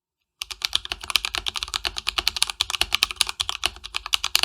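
Rapid, even keystrokes on a Drop ALT mechanical keyboard modded with Holy Panda switches, close and crisp with a deeper, muted thock to each press, continuous after a brief silent start.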